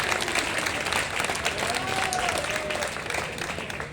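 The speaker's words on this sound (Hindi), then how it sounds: "एक बार ताली बजाकर बता दें," An audience applauds steadily at a Hindi comic poetry gathering (kavi sammelan), dense and even clapping throughout with faint voices in the crowd.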